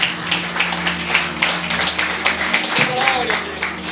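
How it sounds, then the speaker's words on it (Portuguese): Church congregation clapping together in praise, a steady rhythmic crackle of many hands, fairly close and loud, with voices and a sustained tone running underneath and a brief sung or spoken line near the end. "Louva o Senhor com as palmas, amada igreja."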